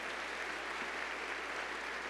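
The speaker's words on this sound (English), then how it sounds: "give them a round of applause" Steady applause from an audience at a university closing plenary session, a dense even patter of many hands clapping at moderate distance, continuous throughout with no voices.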